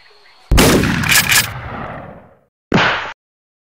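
Gunshot in a Bangladeshi short film: one loud, close blast that echoes and decays for about two seconds, followed by a second sharp, shorter bang.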